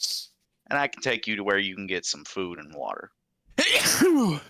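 A single sharp sneeze bursts out at the end, loud and close, after a stretch of conversational speech during a tabletop roleplaying game session.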